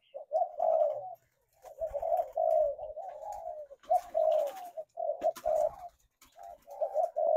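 A Thai spotted dove coos in repeated soft, rounded phrases with short pauses between them, close and clear against a quiet background.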